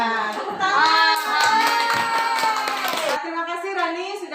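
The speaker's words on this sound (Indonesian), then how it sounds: "Ya, tepuk tangan." Students in an Indonesian classroom clapping during a lesson, a dense burst of applause under a loud teacher's voice and children's voices.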